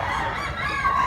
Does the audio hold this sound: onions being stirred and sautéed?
no